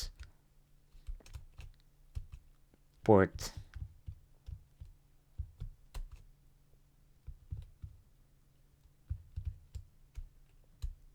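Typing a command on a computer keyboard, soft irregular key clicks close by with one brief louder burst of noise, quiet overall, and a voice talking at times.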